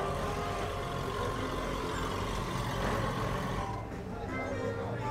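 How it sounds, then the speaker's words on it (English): A loud Porsche engine roars steadily at a cars and coffee meet, a dense, continuous near roar that eases slightly toward the end. "I'm impressive how that Porsche is very loud."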